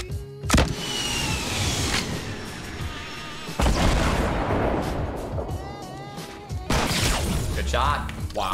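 Sniper shots in the video game Fortnite: a few sharp, loud cracks ring out several seconds apart amid continuous game noise, with people talking in between.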